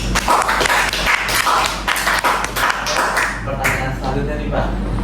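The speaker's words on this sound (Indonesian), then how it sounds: "Tepuk tangan dong." Classroom or school audience applauding a teacher's answer during an interview session, with dense overlapping claps and taps continuing steadily under a low hum and background voices.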